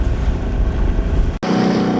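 Steady wind and wave noise on Lake Keitele in Finland, heard from a single-handed sailboat; a loud continuous roar and rush with a brief dropout near the end, and no voices.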